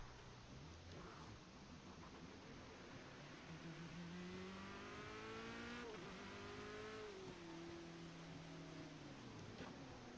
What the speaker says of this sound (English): Yeah, cars are sliding all over the place.